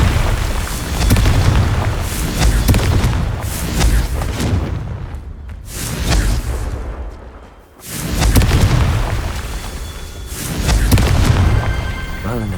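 Confringo blasting spells in Hogwarts Legacy set off a series of loud, booming explosions with deep rumbling bursts that swell and fade in waves, with one brief lull in the middle.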